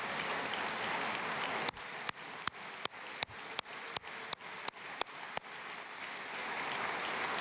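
Club members at the FC Bayern München annual general meeting applaud the football players: a hall full of clapping that turns into a run of sharp, evenly timed rhythmic claps before the loose applause returns.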